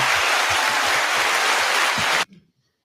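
A steady wash of applause plays loud and close beneath faint rhythmic low thumps, then cuts off abruptly after about two seconds, leaving near silence.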